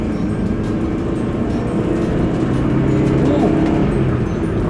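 Loud, steady engine drone from a 1995 Toyota Corolla 1.3 DX van with a 1300 cc engine, heard from inside as it pulls hard under acceleration, with a speaking voice mixed in.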